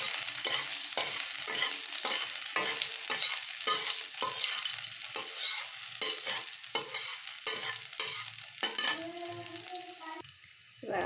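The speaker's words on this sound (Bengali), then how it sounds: "জিরে ফোড়ন দেব, কাঁচা লঙ্কা দিয়ে ছাড়বো।" Cumin seeds and green chillies crackle in hot oil with a bright, steady sizzle and regular scrapes of a stirring utensil, close and fairly loud, before the frying dips and a clattering thump near the end; no one speaks.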